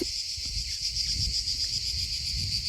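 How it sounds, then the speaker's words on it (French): Cicadas buzz in a steady, high, continuous drone that holds for a few seconds, with faint low rustling underneath and no talking. "Avec les cigales évidemment."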